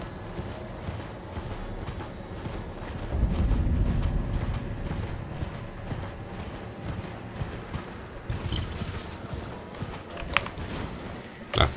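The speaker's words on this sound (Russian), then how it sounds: "Зато я коня могу использовать." Hooves of a horse ridden in Elden Ring clop in a steady rhythmic gallop, mixed with faint creaks and game ambience, moderately loud and continuous with no talking.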